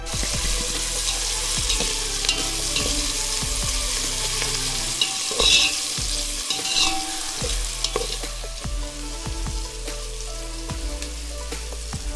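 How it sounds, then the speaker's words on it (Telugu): Onions, with green chilies and a little salt, fry in a pan for boneless chicken biryani, giving a loud steady sizzle broken by repeated stirring scrapes and clatters, close and without speech. "ఈ ఆనియన్స్ లైట్ బ్రౌన్ కలర్ వచ్చేంత వరకు వీటిని ఫ్రై చేసుకోండి"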